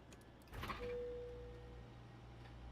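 Cockpit fans in a Fenix A320 in Microsoft Flight Simulator 2020, spinning up after battery power is switched on: a low steady hum with a brief whirring swell, then a thin tonal whine fading into a constant drone.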